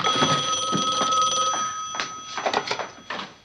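A telephone bell rings in a 1960s sitcom home, loud steady ringing for about a second and a half, then broken bursts of ringing with softer gaps.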